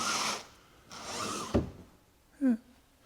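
A storage bin door in a new family motorhome opened or shut with a single short wooden thunk and rattle, faint and close, set between quiet moments.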